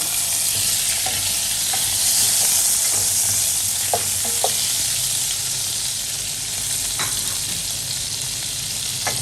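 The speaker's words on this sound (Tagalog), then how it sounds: "imelt lang natin mabuti yung butter" Butter melting in a pan for garlic parmesan sauce, a continuous soft sizzle and hiss heard close up, with a few light clicks of stirring along the way.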